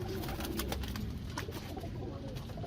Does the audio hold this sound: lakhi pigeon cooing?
yes